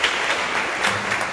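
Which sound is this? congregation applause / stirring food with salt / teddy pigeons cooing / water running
congregation applause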